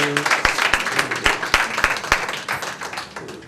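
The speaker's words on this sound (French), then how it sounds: "Applaudissez-le." Wedding guests at a civil marriage ceremony burst into applause, a dense crowd of clapping with a few sharp, loud hand claps standing out, fading gradually over a few seconds.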